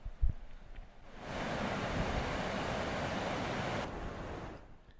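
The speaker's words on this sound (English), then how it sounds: "we have a little waterfall in Dearborn." A small waterfall on a river in Dearborn gives a steady, broad rushing roar that rises after a second, holds for about three seconds, then falls away.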